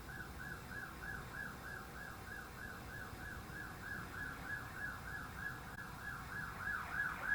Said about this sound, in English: Doesn't it sound like a car alarm?